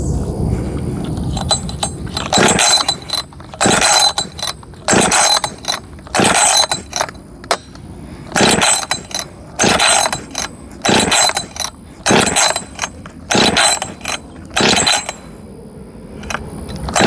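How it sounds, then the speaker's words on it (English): A Husqvarna 562 XP chainsaw, brand new, runs in bursts in a log during warm-up, revving loudly again and again with brief pauses between cuts. "We'll run it a few times in this log right here, get it warmed up"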